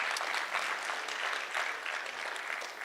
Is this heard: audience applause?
yes